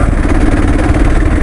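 A KLR motorcycle with a stock exhaust runs steadily and loudly close by, a dense, even engine drone with slight clatter and no talking.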